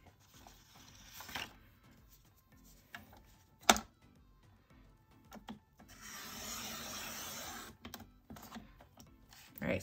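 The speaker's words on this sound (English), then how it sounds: "So I actually need to cut this side a little bit more." Paper being cut for a Happy Planner spread, with close, quiet scissor snips and rubbing, plus a longer stretch of steady cutting.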